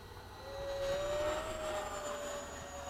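An 80mm FMS Hawk RC jet's electric ducted fan spooling up to full throttle at a flying field, a distant rising whine with a steady tone that swells and holds, no talk.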